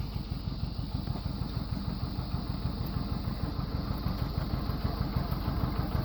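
A steady tractor engine runs continuously in a hay field, a loud, close, rumbling drone with an even mechanical throb and no pauses.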